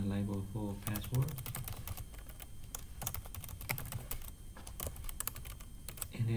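Rapid clicking keystrokes on a computer keyboard, typed in quick irregular bursts at close range, with a voice talking over parts of it.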